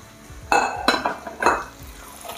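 Potatoes, chorizo and snow peas stirred in a cast-iron pot: three distinct metallic scrapes and clanks of a utensil against the pot, close and fairly loud, over a quiet background.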